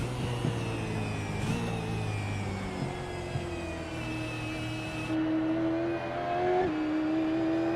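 V8 Supercar Gen3 race cars in a sim racing game run down the back straight, engine tones climbing steadily through the gears as cars run nose-to-tail in a slipstream, with a continuous loud drone.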